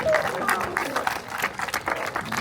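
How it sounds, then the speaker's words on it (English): Audience applause at a wildlife bird show at African Lion Safari in Canada: a steady wash of clapping across the whole clip, mixed with crowd noise and a voice speaking over it. "We can give him a round of applause."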